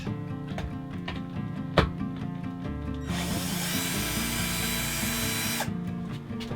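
A power drill-driver backs out temporary screws from a sliding bed frame in a Ford Transit van conversion. Close, loud whirring runs for about three seconds after quieter knocks, over background music.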